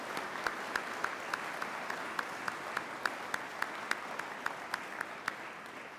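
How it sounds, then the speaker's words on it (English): Faint, steady applause from an audience at a detention officer basic training graduation in honor of the food service, custodial and maintenance staff, with individual claps standing out in an even rhythm throughout. "would you please offer them a round of applause for their hard work?"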